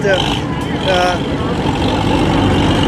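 A Ford tractor fitted with a Ford V8 engine runs steadily at an outdoor cotton gin festival, a continuous low engine rumble under someone talking nearby.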